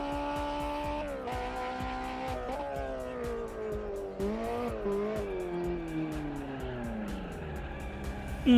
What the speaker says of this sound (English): we need to listen to that exhaust popping